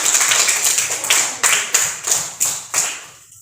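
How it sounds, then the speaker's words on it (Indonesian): A classroom of students claps for a student group, a run of sharp, fairly close hand claps that thins into a few separate claps and stops near the end. "Kasih tepuk tangan sekali lagi untuk kelompok"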